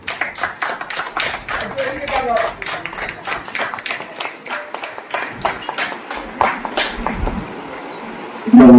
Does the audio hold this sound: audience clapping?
yes